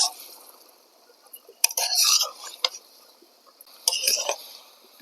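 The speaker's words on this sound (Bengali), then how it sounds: "এবারে ঢাকনা খুলে নিচ্ছি।" A cooking-pot lid lifted off while fish simmers with lai greens, giving two bursts of clattering metal clinks and scrapes, close and fairly loud, separated by quiet simmering.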